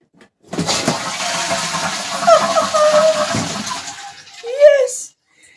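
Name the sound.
dual flush toilet flushing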